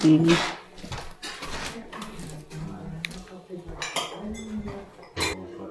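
Cooking pots and pans handled in a home kitchen, with metallic clinks, clanks and cutlery rattles scattered through the clip under and between people talking nearby.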